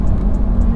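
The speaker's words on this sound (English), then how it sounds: "Oh, and that engine is just," Lamborghini Gallardo engine running with a loud, steady low rumble, close and continuous with no talk over it.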